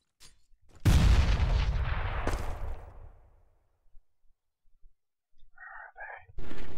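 A grenade explodes in Counter-Strike with a single loud, close boom that rolls off over about two seconds, followed by quiet and a few faint game sounds.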